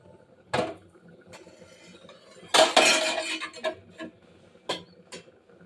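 A pot of cooked rice lifted off a kitchen stove, with sharp metallic clanks and scrapes of pot and utensils, one loud cluster in the middle and a few isolated knocks, close and without talk.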